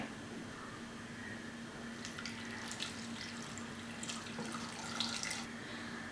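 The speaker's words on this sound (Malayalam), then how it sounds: "ഇതിലേക്കിനി ഗ്രേവിക്ക് ആവശ്യത്തിനുള്ള വെള്ളം ഒഴിക്കാം" A steady stream of water runs into a pot of curry gravy made with unripe plantain and dried prawns. It is a quiet, continuous pour with faint splashy flickers and no voices.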